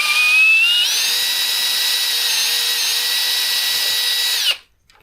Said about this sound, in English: You're drilling through the existing epoxy that was there